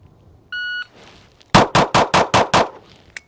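Six sharp pistol shots from a Dan Wesson race pistol firing minor power factor rounds ring out in quick, even succession, loud and close, after a brief electronic beep from a shot timer.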